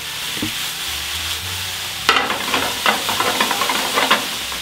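Mushrooms sweating in a pan with salt and pepper, a steady soft sizzle joined midway by louder stirring scrapes and crackles from a spatula turning them over.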